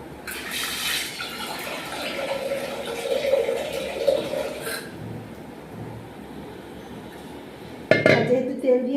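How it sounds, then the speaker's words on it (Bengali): Water is poured into a pressure cooker in a home kitchen, with metal pots and utensils clinking alongside a steady splashing fill and a sharper clatter near the end. "আর তার সাথে কুকারটা রেডি করে নিচ্ছি। কুকারের মধ্যে একটু জল নিয়ে নিই।"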